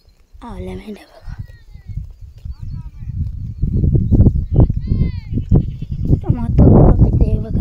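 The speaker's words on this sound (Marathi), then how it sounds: "आवल्या मेंढ्या बघा." A flock of sheep, mixed with goats, bleats nearby on a farm, several wavering cries rising over someone talking and the rustle and shuffle of the animals.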